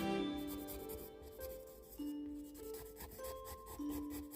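A pen scratches over paper in quick, loose strokes while paths are sketched in a landscape drawing, a soft dry rasp heard close and alone under faint background music.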